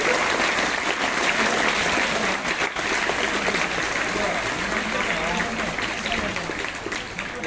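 Schoolchildren at a government primary school in Srinivaspur applaud in a loud, dense, continuous burst of clapping that holds steady throughout, with some voices mixed in.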